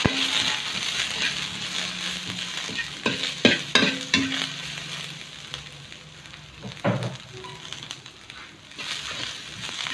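Green beans tossed into a hot frying pan with vegetables, loud sizzling and frying with a few sharp stirring scrapes and clatters midway, then a steady sizzle without talk.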